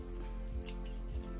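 Scissors snip scales off a pine cone near its core, giving two or three short, close crunchy cuts over a steady low hum, with no voices.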